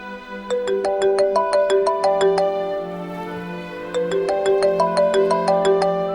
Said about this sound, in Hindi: किरण, किरण फोन है तुम्हारा।